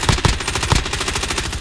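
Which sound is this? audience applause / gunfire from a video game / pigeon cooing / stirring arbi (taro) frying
gunfire from a video game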